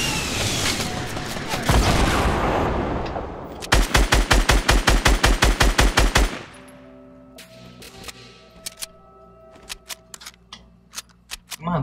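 Rapid bursts of gunfire in Fortnite, including a fast run of about a dozen evenly spaced loud shots, followed by scattered single shots and game effects, with brief player talk over the top.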